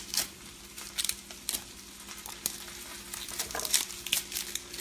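Food sizzles and crackles in a hot pan while pork roast with sauerkraut and kielbasa is cooked, a continuous hiss with scattered pops and stirring clatter.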